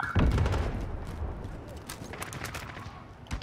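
Call of Duty: Modern Warfare gunfire in online play, rapid bursts of shots and booming impacts layered close together, loud at the start and again at the end with steady battle noise between.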